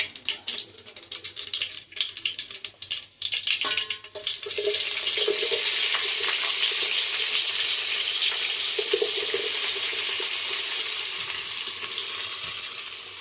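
Fenugreek seeds and chopped onions fry in hot oil for a Nellore-style fish curry, a steady close sizzle that swells loudly after a few seconds of lighter crackling and clatter.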